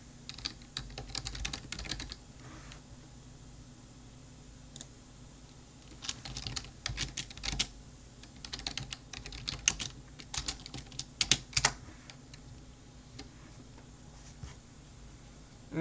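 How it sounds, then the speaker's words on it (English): Bursts of keystrokes on a computer keyboard, clicking in irregular clusters with short pauses between, fairly quiet over a steady low room hum, no talking. "which I will type in the chat right now"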